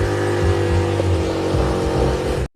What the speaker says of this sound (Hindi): बाइक स्टार्ट करते हैं